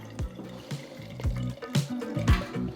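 Beer poured from a keg through a picnic tap, liquid splashing and gurgling into a glass in short irregular bursts, close up with no talk.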